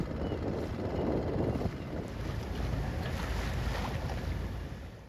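Small dinghy motoring across the water near Newport, with a steady low engine-and-hull rumble and broadband wind buffeting the microphone throughout, loud and close, with no talking.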